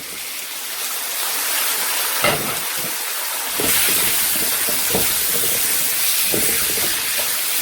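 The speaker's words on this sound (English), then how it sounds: "So I'm still frying and now I'm going to be adding the mixed veg into it." Mixed vegetables and mushroom frying in a pan for Nigerian fried rice give a loud, steady sizzle that swells partway through, with occasional clinks and scrapes of stirring close by.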